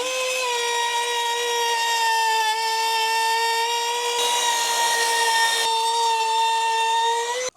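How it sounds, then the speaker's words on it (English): A trim router chamfers the underside edge of an upside-down oak-edged epoxy table with a loud, steady high whine that runs without a break for about seven seconds. "we're going to chamfer with our trim router this underside edge whilst the table's upside down"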